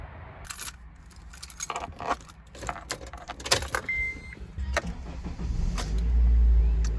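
A project car with an old engine cranks and starts, its idle settling into a loud, steady low rumble near the end, after scattered clicks and key jingles.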